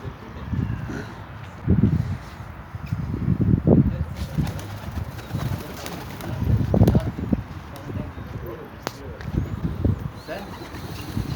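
Low, soft pigeon cooing repeats in bursts amid outdoor noise and faint wind, with voices talking nearby.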